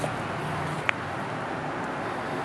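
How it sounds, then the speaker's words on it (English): Outdoor site generator, used to power a concrete saw, droning as a steady broadband rumble and hiss throughout, with one brief faint tap partway through. "I apologize for the noise of the generator"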